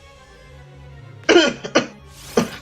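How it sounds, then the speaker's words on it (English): A person with a sore, achy throat coughs in a few sharp, close bursts after a quiet stretch, one cough sounding like throat clearing, with a final separate cough a moment later. "I can't help the cough right now"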